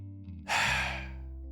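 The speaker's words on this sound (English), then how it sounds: "Then he exhales." A man lets out a single audible breath after a deep inhale, a close, breathy sigh rising sharply and tailing off over about a second.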